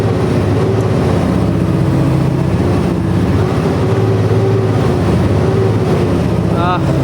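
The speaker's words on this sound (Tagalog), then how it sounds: "Sakit sa ulo talaga to kasi lakas ang ng makina." Loud diesel truck engine running steadily while hauling a 70-foot pipe, a constant heavy low rumble with wind buffeting throughout, close and continuous.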